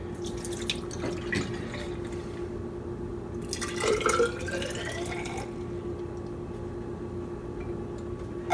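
Water poured out of a container during a basic rock identification test, a short splashing gush of liquid amid dripping and faint clinks, close and moderately loud, without speech.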